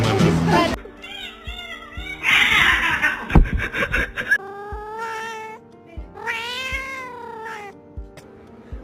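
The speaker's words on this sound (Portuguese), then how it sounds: "Oh meu Deus, que gato doido é esse" A cat meows and caterwauls in several drawn-out, wavering cries close up, with laughter and snickering from people mixed in between the calls.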